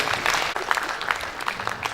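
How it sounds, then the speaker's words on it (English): Audience applause at a gathering of professional women builders in Nigeria, a steady wash of clapping from a crowd, fairly loud and continuous for a couple of seconds. "Another round of applause for her, please."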